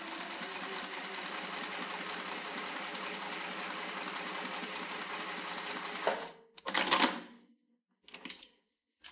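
A Juki TL-2200QVP mini sewing machine stitches fabric with a fast, steady mechanical whir for about six seconds, then stops, followed by a couple of brief clicks and short bursts of machine noise.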